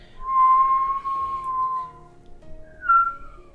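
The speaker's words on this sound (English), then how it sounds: "the wind whistled softly in the background." Soft wind whistles through a scene in the Hakuoki Shinsengumi Kyoto Winds game, a thin steady tone that swells briefly near the start and rises again in a shorter gust at the end, with no voices.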